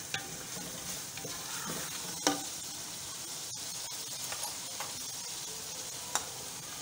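Tomato paste sizzles in a pan of coconut fish curry while a spoon stirs it, giving a steady, soft frying hiss with occasional scrapes and light clinks, close up and without talk.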